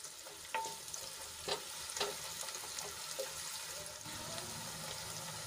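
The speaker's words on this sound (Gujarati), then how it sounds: "તો ડુંગળીને આપણે ગુલાબી રંગની થાય ત્યાં સુધી ઢાંકીને ચડવા દઈશું" Onions fry in a pan, left to cook until pink, making a soft, steady sizzle with a few sharp taps and clicks scattered through it, fairly faint and with no talk.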